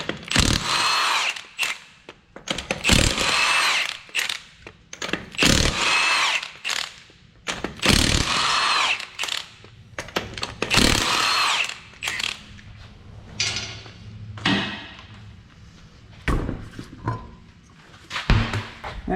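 Power tool spinning off 21mm lug nuts from a Mazda front wheel, several loud buzzing bursts of a few seconds each separated by short pauses and quieter clicks, close by.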